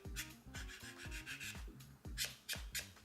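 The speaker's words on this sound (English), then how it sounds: "Let's see if we can sand it." A power sander works on a thin piece of cosplay foam sheet in a series of short rough rasping passes, each stroke starting and stopping in an uneven rhythm, close by and fairly quiet, with no talk.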